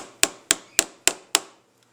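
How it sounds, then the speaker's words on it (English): Five sharp hammer taps on a stuck metal cover during an AC 6550 rebuild, at an even, quick rhythm, close and clear, then silence. "A few taps with a hammer."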